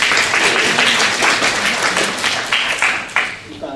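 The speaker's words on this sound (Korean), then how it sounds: "큰 박수 한번 쳐주시죠" An audience at an architecture and urban forum in Korea gives a big round of applause, dense and loud at first, then thinning and fading toward the end.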